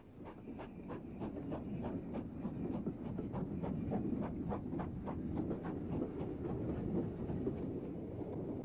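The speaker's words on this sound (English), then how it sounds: "Here the train is approaching the top of the climb after Glenfinnan" A train rumbles steadily along the track with a regular clickety-clack of wheels over rail joints, continuous and fairly close, with no voices.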